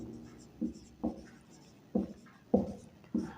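Pen or chalk writing during a class 6 maths lesson on ratios, a series of short scratchy strokes tapping out in an uneven rhythm, close and clear with no talk.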